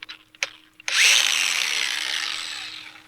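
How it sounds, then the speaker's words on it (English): An angle grinder grinds down the edges of an anvil for a DIY blacksmith forge, a loud continuous abrasive metal whine that starts abruptly after a few faint knocks and holds steady to the end. "file this down a little bit with the angle grinder."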